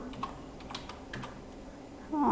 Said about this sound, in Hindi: आप कुछ भी यहाँ पर लिखते हो, जैसे मैं लिखती हूँ कुछ भी, रिया,